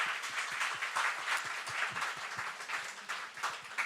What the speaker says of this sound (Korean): 우리 큰 박수로 한번 환영하겠습니다